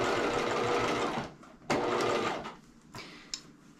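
A sewing machine sews a zigzag stitch over folded elastic on a bodysuit, a close steady mechanical whir for over a second, then a few shorter bursts and clicks as the stitching stops and starts.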